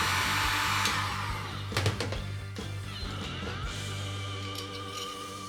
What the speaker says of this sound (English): so we'll try the heat gun and see what happens.